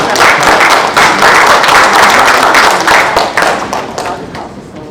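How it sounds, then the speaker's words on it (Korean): Loud applause from a church seminar audience welcoming a pizza-shop owner to the stage, dense steady clapping with a few sharp taps, holding strong before tapering off near the end. "우리 나오실 때 큰 박수로 환영하겠습니다."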